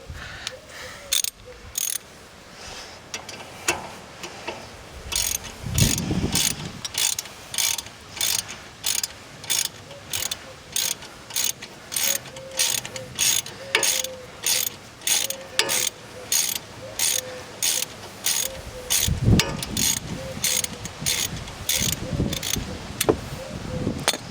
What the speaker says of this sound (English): just put a 1/2" wrench on this